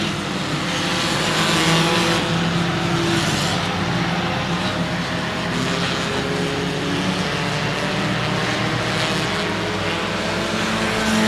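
Race cars roar around the Houston Motorsports Park oval during a 200-lap short-track event, a dense, steady engine drone for the whole stretch with passing swells as cars come off the turn.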